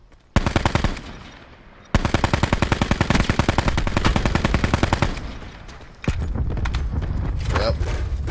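Gunfire in the video game Call of Duty: Black Ops 4, with loud, close bursts of rapid automatic fire and clustered shots over several seconds, while players talk over the action.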